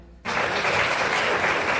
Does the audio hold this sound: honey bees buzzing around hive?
no